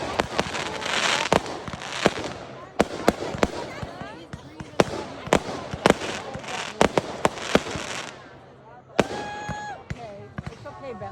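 Fireworks being shot off outdoors: a rapid, irregular run of sharp bangs and crackles, close and loud, with a brief whistling burst near the end. People talk throughout.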